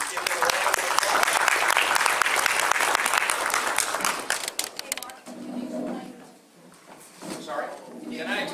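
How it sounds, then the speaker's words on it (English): Loud crowd applause at an event with US congressional candidates in Salem, Indiana, fills the first five seconds, then fades out as a few voices speak quietly. "Please give them a round of applause."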